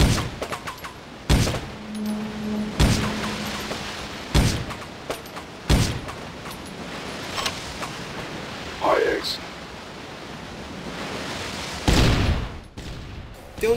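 Gunfire from a Judge Dredd video game, with sharp single shots fired at irregular intervals over a steady background hiss, close and loud, while a voice talks throughout.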